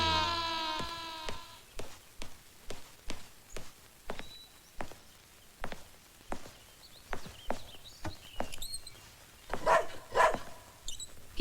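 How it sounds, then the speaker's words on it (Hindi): A dog barks in a steady, repeated series of sharp barks, roughly one every half second, fairly close, with no talking. "क्यों भौंक रहा है? घर में कोई दूसरा कुत्ता आया है?"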